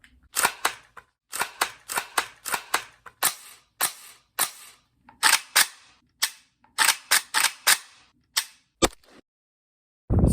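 An AR pistol fires a long string of sharp, loud shots, spaced in quick groups with short pauses between them, alone without talk.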